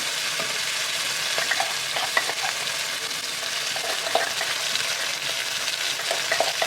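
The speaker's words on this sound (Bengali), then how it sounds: "এবার একটু জিরে ফোড়ন দিলাম, শুকনো লঙ্কা।" Cumin seeds and dried red chillies tempering in hot oil in a pan where prawns were just fried: a steady, dense sizzle with scattered small pops and crackles throughout, close and continuous, with no talking.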